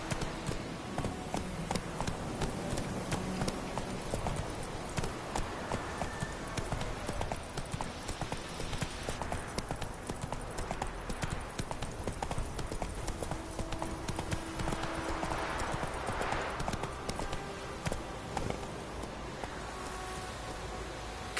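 Roach, a horse in The Witcher 3: Wild Hunt, gallops with fast, steady clip-clopping hooves throughout, close and fairly prominent over a soft game ambience, no voices present.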